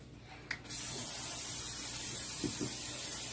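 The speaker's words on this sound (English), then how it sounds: "we're going to spray this with some nonstick" A brief click and puff, then a steady, continuous olive oil nonstick spray hissing close by onto a baking pan for several seconds.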